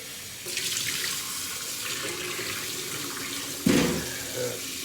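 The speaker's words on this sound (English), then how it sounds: "Our potatoes are all cut up. So now we rinse them all off." Running kitchen tap water pours over cut potatoes being rinsed in a sink, a steady close hiss of flowing water with a sharper splash and clatter near the end.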